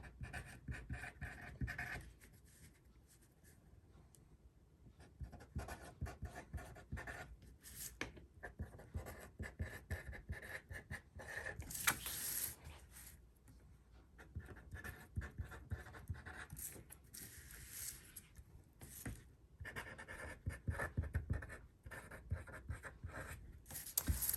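A big marker squeaks and scratches across a Happy Planner page decorated with Dollar Tree stickers, in repeated short strokes with brief pauses, close and fairly quiet, no talking.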